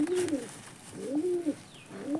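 A pigeon coos nearby in three soft, throaty, rolling calls, each a low warble, with a brief faint chirp between them.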